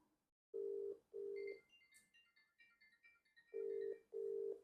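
A phone call rings through repeated steady tones in pairs, two bursts, a gap with faint electronic chimes, then two more bursts, loud and close with no talking.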